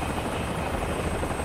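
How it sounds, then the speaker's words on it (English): Helicopter flying in the video game Final Fantasy VII Rebirth, a steady loud rotor drone and buzz that holds evenly throughout with no talking. "Helicopter."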